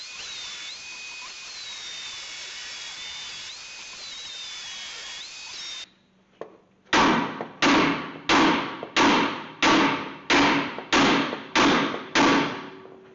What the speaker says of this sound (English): Smacking it with the hammer did crack it